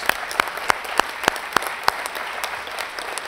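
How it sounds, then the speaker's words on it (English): A graduation-style ceremony crowd applauds the class of 2026. Sharp claps stand out in a quick, steady beat over a soft wash of hands, clear and near, with no voices. "One more round of applause for the class of"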